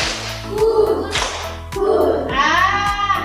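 Hands clapping out a counted rhythm in a classroom clapping game, sharp claps in short groups with a voice mixed in briefly.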